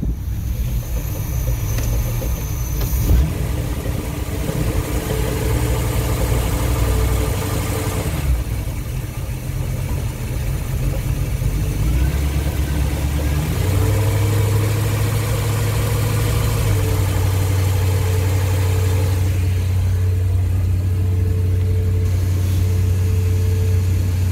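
A car engine idles steadily and loudly for the whole stretch, a low continuous rumble with slight shifts in pitch and no talking over it.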